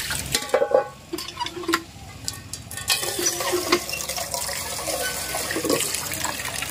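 Tap water splashing and running while raw chicken is washed at an outdoor tap, with clattering handling noises and uneven splashes close by, and no voices.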